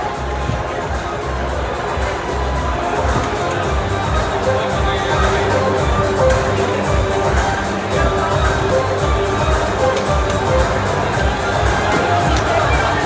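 At the ITB Berlin press conference, a crowd keeps up continuous, loud cheering and babble for the whole stretch, dense and steady, with voices mixed throughout.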